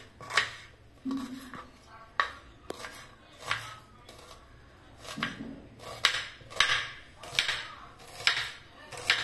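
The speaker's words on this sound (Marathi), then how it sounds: "तर असाच उभा कांदा कट करून घ्यायचा." A knife slices an onion lengthwise on a board, with about a dozen sharp, close cutting taps spaced at irregular intervals over a quiet background.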